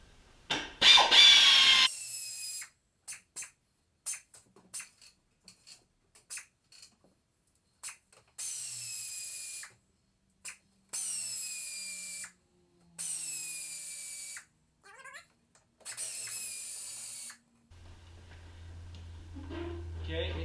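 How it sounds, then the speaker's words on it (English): A power driver whirs in repeated short bursts while removing 7mm dash bolts on a 1996 Chevy Silverado, with clicks and handling noises in the gaps and a low hum near the end. "we're going to remove the 5 7mm bolts that are in the dash"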